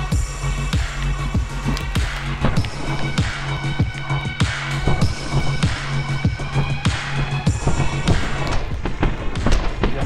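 Rapid gunfire from the action video game My Friend Pedro cracks out in dense, repeated bursts, loud and close, blended with game music and impacts and continuing through the whole stretch.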